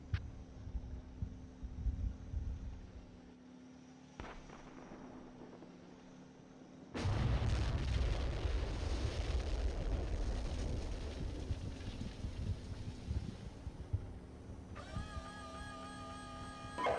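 Incoming weapon fire and explosions in a combat game, a low droning hum that gives way to a sudden loud, sustained roar of rumbling blasts and crackling impacts, with no talking.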